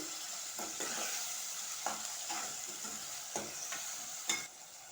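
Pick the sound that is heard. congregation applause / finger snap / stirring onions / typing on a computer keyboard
stirring onions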